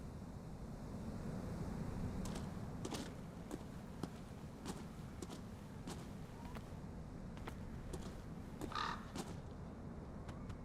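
Crow cawing in the video game Call of Cthulhu, several scattered caws over a steady wash of wind and surf-like ambience, with no talking.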